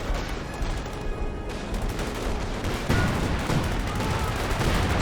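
Gunfire and explosions rattle through a Company of Heroes 2 battle with tanks and artillery, dense rapid shots and booms that get louder and heavier partway through.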